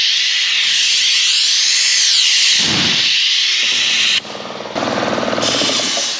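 A pneumatic vacuum paver lifter hisses loudly and steadily as it grips and lifts a paver. The continuous rush of air breaks off abruptly near the end, then resumes with a pulsing, sputtering hiss, all close and without speech.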